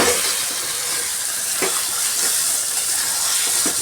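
Chicken sautéing in a pan gives a continuous dense sizzle and hiss with a few faint scraping stirs, close and steady, with no talk.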